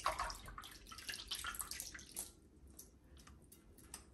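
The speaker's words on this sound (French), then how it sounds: "d'égoutter nos crevettes, les poser dessus" Tiger prawns draining before being laid on paper towel give off a steady trickle and patter of dripping water, louder at first and thinning to sparse drips; no talking.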